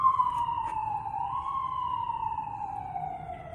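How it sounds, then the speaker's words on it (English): A fire truck siren wails steadily and loudly close by, its tone sliding up and then slowly down as it passes, with no talking over it. "And that fire truck sounded real close."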